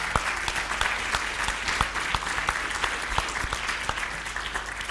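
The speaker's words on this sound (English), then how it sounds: "Give them a round of applause," Loud, close audience applause for panelists at an agricultural finance learning event, many individual claps standing out sharply within a full, sustained round.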